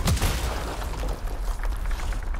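A huge boom from a nuke launcher weapon in the video game Anthem, with a sharp blast at the start and a dense, rumbling roar that holds loud for the rest of the moment.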